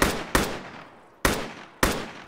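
An explosive device detonating in the military shooter game ArmA 3: four sharp, loud blasts with decaying tails, unevenly spaced, heard alone without voices.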